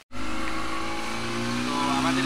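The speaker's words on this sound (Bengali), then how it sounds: "স্পিড বোট ছেড়ে দিয়েছে।" A speed boat engine roaring close and loud as the boat pulls away on the water near the Sundarbans, a continuous steady drone that starts abruptly and holds.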